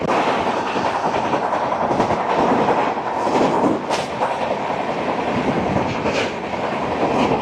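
Sealdah–Bamanhat Uttarbanga Express, train 13147, rushing past at close range, a loud continuous roar of wheels and carriages with rhythmic clatter over rail joints throughout.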